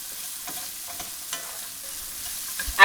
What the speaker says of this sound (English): take 1 large red onion finely chopped and just put it in, and this aids in the overall deglazing of the pan